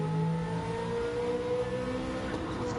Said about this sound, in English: I forgot this Porsche doesn't like braking at that speed.